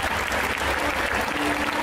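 Dense, steady applause from a large indoor audience at a medieval-themed musical performance contest, a continuous loud wash of clapping filling the whole moment with no pauses.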